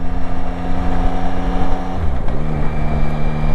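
A Yamaha Tracer 9 GT motorcycle engine hums loud and close at speed, its mechanical whine steady with wind buffeting, then dips briefly in pitch as revs drop before recovering.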